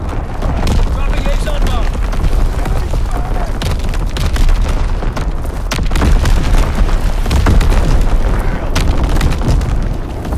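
Naval artillery shells pound the map in Call of Duty WWII, a dense run of deep booms and blasts rolling continuously with a radio-style voice speaking over them.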